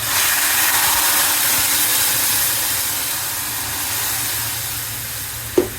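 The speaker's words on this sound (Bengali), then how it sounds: "এখন আমি ডাল ঢেলে দিব।" Mung lentils poured into hot oil tempered with dried chillies, garlic, bay leaves and fried onion give off a loud, sustained hissing sizzle. It eases slightly over several seconds and ends with a single clack of a utensil.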